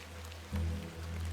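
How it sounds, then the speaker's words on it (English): Rain falls in The Excavation of Hob's Barrow as an even, close hiss of drops, joined midway by a deeper humming drone that holds to the end. "A bit of rain won't kill me, will it?"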